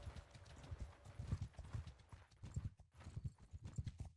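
Hooves in the game Mount & Blade II: Bannerlord thud in a fast, continuous gallop, several horses together at moderate volume with no talk.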